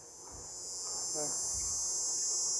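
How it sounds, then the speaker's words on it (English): Cicadas buzz in a continuous, shrill drone that swells slightly louder, with faint low rumbles underneath. "There go the cicadas."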